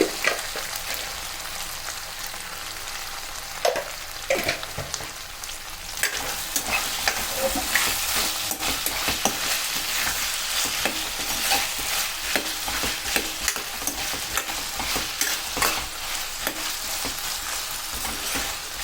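Aloo capsicum curry of potato and bell pepper frying in a pan, with a steady close sizzle and frequent scraping stir strokes that grow busier partway through, no voices present.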